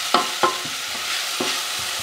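Onions frying in a pan for a vegetarian moussaka, a steady close sizzle broken by a few scraping stirs, with no one talking.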